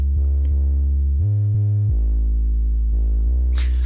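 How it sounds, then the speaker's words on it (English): Deep, sustained synth bass notes step between pitches in a drum and bass bootleg of a Kingdom Hearts song. The line plays on its own, with no voices, and a brief burst of hiss comes at the end. "And then we added in our own bass line here."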